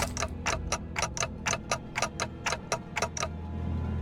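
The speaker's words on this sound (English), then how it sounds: "Yep, ticking is all I can hear." A clock-headed character in the video game Limbus Company ticks: a crisp, regular run of about a dozen quick ticks at an even pace over a low background hum.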